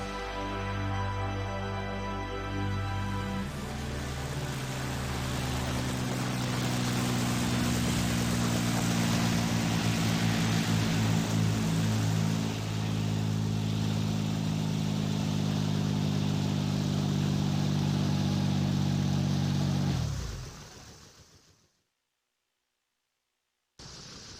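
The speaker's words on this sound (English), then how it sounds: "the helicopter's gonna take off and leave us here?" A helicopter in a full-motion-video scene from the Akazu no Ma visual novel spins up for takeoff, a loud, steady droning engine and rotor roar that holds for about twenty seconds before cutting off abruptly into silence.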